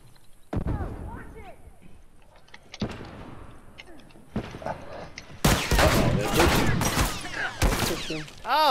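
Enemy gunfire in The Last of Us multiplayer, scattered sharp shots early on building to heavy, loud volleys near the end, with a player voice speaking briefly in between.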